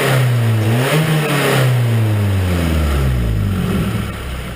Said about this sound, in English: Gave her a few revs, let the oil get through, and listen to that quietness.